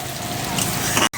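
Onions sizzling in hot oil as they fry to a light golden color for a chicken curry, a steady crackling hiss throughout that cuts off briefly near the end.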